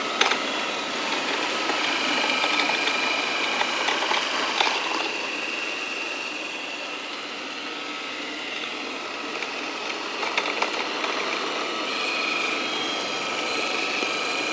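A bObsweep Dustin robot vacuum runs over tall carpet, giving off a steady whirring motor hum with brushy, rattling scrapes that rise and fall slightly as it works its way across.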